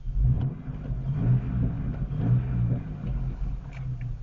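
An old manual-transmission car with 159,000 miles revs its engine nearby, a steady low rumble that swells and eases in a few uneven surges, with no talking over it.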